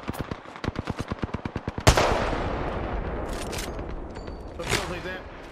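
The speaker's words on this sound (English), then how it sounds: "I'm gonna Kraber, I'm gonna Kraber from here." Rapid bursts of gunfire in the Apex Legends video game, about a dozen evenly spaced loud shots, then a single heavy Kraber sniper rifle blast followed by a lingering echo and further distant game noise.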